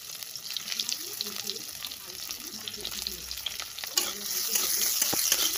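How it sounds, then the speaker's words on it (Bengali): Onion fried in oil with cumin seeds in a pan sizzles steadily while a utensil stirs it, scraping and clicking irregularly; the frying grows a little louder near the end. "পেঁয়াজ দিয়ে ভালো করে নাড়াচাড়া করবো।"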